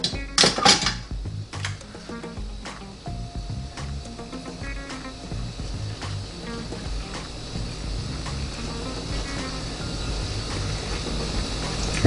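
Breaded chicken cordon bleu pieces set into the metal air fryer basket of a NuWave Bravo XL smart oven, producing sharp metallic clinks and rattles early, then quieter scattered handling noises.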